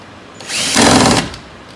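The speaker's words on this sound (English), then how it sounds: "he's trying to find a spot where we can drill a hole on each side of the post to run the zip tie through" A power drill whirs for under a second as it bores a hole through a wooden stair post, rising and falling in a single close, loud burst.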